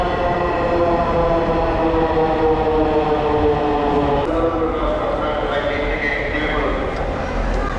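Dhaka metro rail train running at high speed, a steady loud rolling rumble with a sustained tonal hum throughout, heard from inside the carriage.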